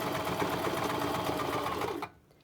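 A sewing machine topstitches a reusable fabric makeup-remover wipe in a fast, close, steady whir of stitching, then stops abruptly near the end.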